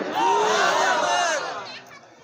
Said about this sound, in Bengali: আরো তাকবীর জোরে হয় না কেন?